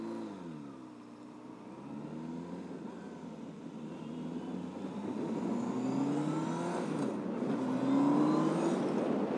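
A Honda CB600F Hornet motorcycle rides along a road, its four-cylinder engine droning steadily and rising in pitch through gear changes, loud and continuous with wind noise.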